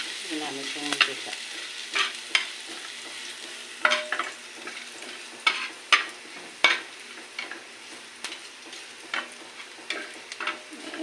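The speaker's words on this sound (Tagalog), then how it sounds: "magpa-fried rice ako" Fried rice stir-fried in garlic-infused oil in a home kitchen, a steady close sizzle broken by repeated sharp scrapes and clanks of the spatula against the pan at an irregular rhythm, with no talking.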